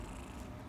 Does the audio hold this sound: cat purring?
yes